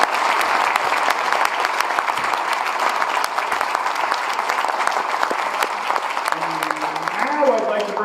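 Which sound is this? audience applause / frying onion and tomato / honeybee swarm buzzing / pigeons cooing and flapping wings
audience applause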